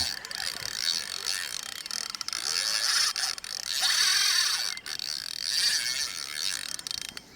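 Steady whirring, clicking mechanical cranking of a fishing reel wound in continuously while retrieving a pike lure, close and fairly loud with faint background noise.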